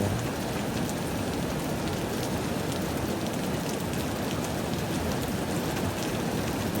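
Heavy tropical-storm rain pours down in a steady, dense hiss, close and loud throughout with no pauses or voices.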